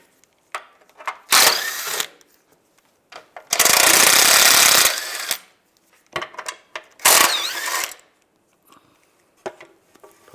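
Bursts of close, rapid ratchet clicking from a 15mm socket backing out cover bolts on a 2007-2013 Chevy Silverado, with longer and shorter runs separated by quiet gaps and small metallic taps.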